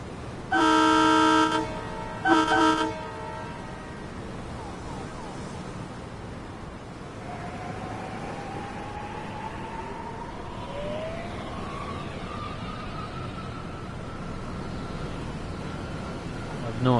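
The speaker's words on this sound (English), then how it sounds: "Traffic's quite loud though." Road traffic in the Train Sim World 6 video game on the Northeast Corridor Metro North line: two sharp horn toots at the start, then a steady roar of traffic with vehicles sweeping past underneath.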